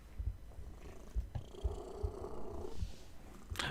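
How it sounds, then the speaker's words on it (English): A cat purrs right into a microphone, a close, rumbling purr with a regular pulsing rhythm of breaths that continues throughout. "I hope you don't mind the cat purring into the mic."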